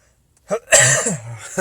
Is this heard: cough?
yes